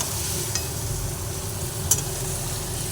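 Chicken curry with added water bubbling and sizzling in a pan as it is stirred, a steady close simmer with a couple of faint spoon scrapes and no talking.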